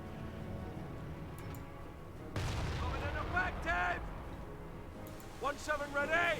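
Gunfire crackles in a Company of Heroes battle between Panzer Elite and British forces, with scattered shots and a heavier burst of fire around 17-pounder anti-tank guns and a flak gun.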